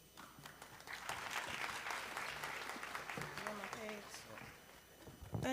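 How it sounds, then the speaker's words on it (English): A graduation ceremony audience claps steadily in a large venue, a sustained wash of many hands with some cheering voices rising above it, ending in a louder burst. "let's give another round of applause for 2024"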